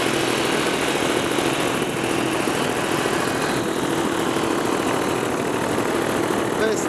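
A paramotor engine runs steadily at take-off, a loud, buzzing, high-revving drone that holds constant throughout, with a voice speaking briefly underneath.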